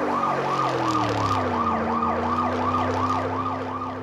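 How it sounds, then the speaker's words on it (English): A fast yelping siren cycles rapidly and continuously over the low drone of a vehicle engine, loud and close, with no talking. "the officers turn on the siren and drive off"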